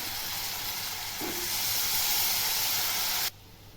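Hot oil sizzles steadily as green chickpeas and potatoes hit a pan with tomato and spicy Kolhapuri red masala, the frying hiss loud and even before cutting off sharply near the end.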